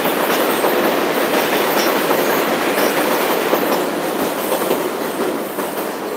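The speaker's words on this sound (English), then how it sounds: "That's a train." Nearby train rolling past in New York, loud continuous roar of wheels on rails with a clattering rhythm and faint squeal, fading slightly toward the end, heard alone without speech.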